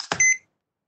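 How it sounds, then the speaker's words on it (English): Two short electronic beeps, high and tonal, follow a brief burst of noise, then silence. "What is that beeping?"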